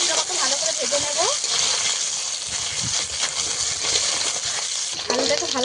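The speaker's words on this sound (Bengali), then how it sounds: "আলুটা আমি 2 মিনিট মতো ভালো করে ভেজে নেব।" Potatoes with whole spices and green chillies fry in hot oil in a pan, a loud continuous sizzle with scraping stirs throughout and a voice speaking over it.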